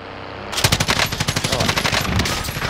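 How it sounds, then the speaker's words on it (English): Automatic gunfire from a PKM machine gun or MAC-10 in a multiplayer shooter game, a loud rapid burst of about fifteen evenly spaced shots after a short quiet lead-in. "There's guys shooting at him."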